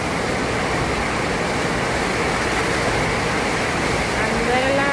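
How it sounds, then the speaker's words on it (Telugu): Heavy rain pounds loudly on roof sheets in a steady, dense roar that fills the whole stretch without letup. "మాకైతే ఫుల్ వర్షం పడుతుందండి."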